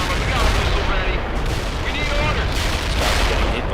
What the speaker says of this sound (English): guy's getting hit by artillery bombardment